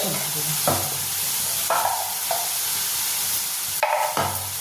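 Ground chili and turmeric being stirred into frying potatoes' oil in a pan: a steady sizzle with a spatula scraping the pan in several distinct strokes, close and loud.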